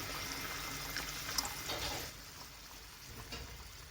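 Water pours into a cooking pot for oats upma, a close, steady splashing stream that tapers off partway through with no talking.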